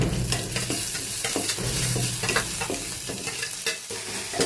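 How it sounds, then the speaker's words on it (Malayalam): Sliced ginger, dried red chillies and curry leaves sautéing in hot oil in a pan, a loud continuous sizzle and crackle with repeated scraping strokes of a spoon, close and without any voices. "അതിൽ ഇഞ്ചി മുറിച്ചിട്ട ഇഞ്ചി, കായ്മുളക്, കറിവേപ്പില ഇതൊക്കെ ഇട്ട് നമുക്കൊന്ന് വാട്ടിയെടുക്കാം"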